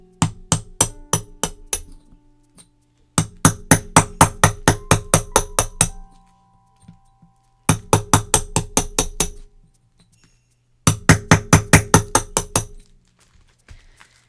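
A hammer strikes a hard rock to break it open, delivering quick bursts of sharp metallic blows, about eight to ten in a row, with short pauses between the bursts and faint clinks in the gaps.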